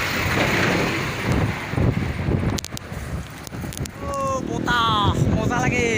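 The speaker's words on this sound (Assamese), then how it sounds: "বতাহ মজা লাগে তামাম বতাহ আহিছে পশ্চিম ফালৰ পৰা" A westerly wind gusts and buffets the microphone outdoors during an Independence Day bicycle outing, rising and falling in loud rushes, with people talking and brief chirping tones near the end.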